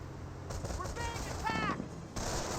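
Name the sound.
artillery barrage and gunfire in Company of Heroes video game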